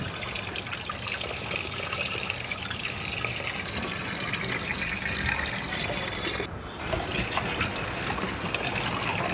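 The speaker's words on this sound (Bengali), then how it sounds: "ফুলকপিটাও ধুয়ে নিচ্ছি।" Cauliflower being rinsed under a running kitchen tap, a steady broadband gush of water that runs continuously with one brief break near the end, close and fairly loud, with no talk.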